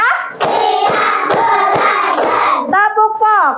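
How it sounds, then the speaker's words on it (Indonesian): A classroom of children claps a five-beat pattern, a loud, close run of sharp claps that gives way to young voices chanting afterward. "tepuk lima,"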